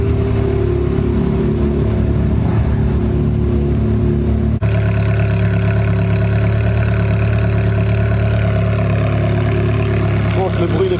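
Ferrari 430 with an aftermarket exhaust, its engine holding a loud, steady idle close by, with a sharp break partway through and a low rumble underneath.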